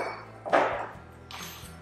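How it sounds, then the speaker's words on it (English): A center punch lightly tapped against a copper sheet to seat a drill bit, giving two short metallic taps about three-quarters of a second apart, close and clear over a quiet room. "very lightly just tap it to create a little seat for where my drill bit is going to go."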